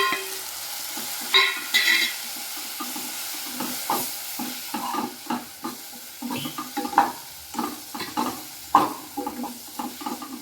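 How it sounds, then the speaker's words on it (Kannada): Coriander powder, chilli powder and turmeric fry with tomato in a pan for sambar, a soft sizzle under repeated close scraping stirs that come in irregular bursts throughout. "ಜಾಸ್ತಿ ವಾಸನೆ ಹೋಗೋವರೆಗೂ ಸ್ವಲ್ಪ ಫ್ರೈ ಮಾಡ್ಕೋಬೇಕು."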